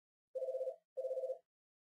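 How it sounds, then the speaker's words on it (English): A telephone rings nearby in two evenly spaced electronic trilling bursts, each about half a second long, with silence between and no voices. "And my phone's just ringing here."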